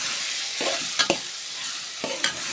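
Vegetables being stirred in a frying pan for a Gujarati sabzi, with a few scraping spoon strokes over a soft, steady sizzle; quiet and close, with no talking.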